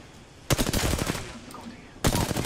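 Bursts of rapid gunfire from a video game shooter, two loud volleys of fast repeated shots separated by a quieter pause, with faint talk in the background.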